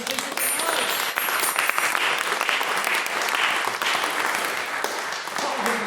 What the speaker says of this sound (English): give another round of applause for a wonderful maiden speech